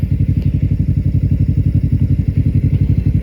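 A small motorcycle engine runs steadily up close on a road in Japan, with a fast, even chugging pulse and low rumble that holds throughout, alone without talk.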